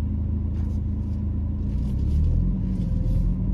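Car in automatic mode cruising along at an easy pace, heard from inside as a steady, loud low engine and road rumble with faint higher hiss, continuous and without talk.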